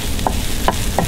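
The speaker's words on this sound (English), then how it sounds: "Just going to keep it moving so that the garlic doesn't catch and burn" Garlic frying in a pan while being stirred, a steady sizzle with three short scraping strokes of the utensil at roughly even intervals.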